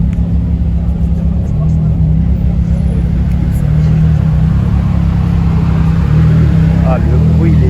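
A Ferrari 430 Scuderia supercar gives a loud, close, low engine rumble with rising and falling tones as it revs, running continuously through the stretch.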